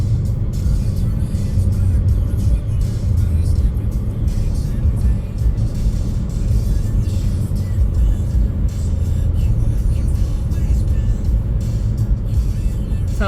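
A 2015 Buick Encore's small four-cylinder engine pulls steadily uphill, giving a continuous low drone with road and cabin rumble throughout, loud and close from inside the car.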